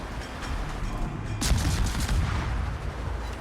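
Naval gunfire from the Leningrad shooting at the Scharnhorst in World of Warships, a sharp booming salvo bursting out midway over a rumbling battle background, with no talk.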